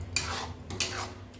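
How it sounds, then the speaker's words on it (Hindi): Jaggery puran filling being stirred in a pan with a utensil, two distinct scraping strokes against the metal over a faint low background, no voices. "देखिए इसे अभी हम चलाते हुए पकाएंगे।"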